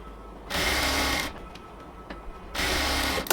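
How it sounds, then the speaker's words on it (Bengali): A sewing machine stitches the elastic waistband of baby pants in two short, close, rapid bursts with a quiet pause between them. "এবার হচ্ছে আমরা এখানে কাপড়টাকে ফিক্সড করে একটা সেলাই দিয়ে দিব।"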